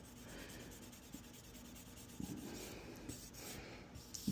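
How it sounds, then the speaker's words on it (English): A Japanese knife handle is lightly scrubbed to remove minor surface corrosion, making soft, faint rubbing and scratching strokes close by, fairly quiet and steady, with a few small knocks near the end. "We're just lightly scrubbing away some of that very, very minor surface corrosion, but leaving the natural patina."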